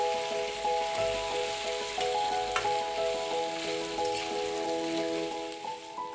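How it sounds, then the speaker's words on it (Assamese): Boiled pork frying in a pan gives off a continuous close sizzle with a few light crackles, while a steady background hum runs underneath and no one speaks. "গাহৰি মাংসখিনি অকণমান ভাজিব লাগিব"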